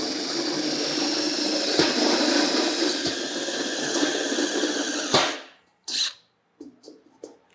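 A step drill bit grinds steadily through metal for about five seconds at close range, a harsh squealing whir, then stops abruptly, followed by a few brief short bursts.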